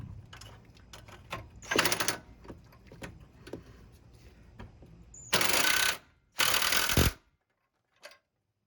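A ratchet turns a deep socket on the 10 mm battery nuts of a Honda Pilot. It gives bursts of quick clicking, with two longer runs near the end, close up with quiet gaps in between.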